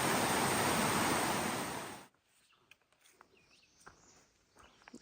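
Rushing stream with a small waterfall on a wooded Appalachian Trail section, a loud steady wash of water for two seconds that cuts off abruptly, leaving faint scattered rustles and small knocks.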